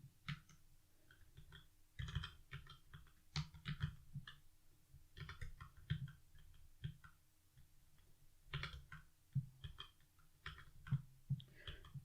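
Fingers type in bursts on a computer keyboard while editing in Vim, quick clusters of close keystroke clicks broken by short pauses.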